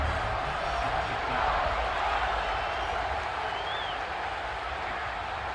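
Stadium crowd cheering after a field goal in a Stanford at Notre Dame football video game, a broad, steady roar of cheers and applause, distant and sustained for the whole stretch.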